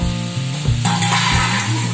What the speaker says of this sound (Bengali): খুব ভালো করে ভাজা ভাজা করে নেব।